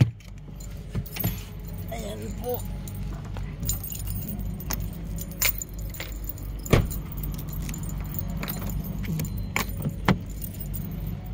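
Car keys jangle in short metallic bursts near at hand during a late-night road trip stop, set over a steady low engine hum, with someone speaking briefly.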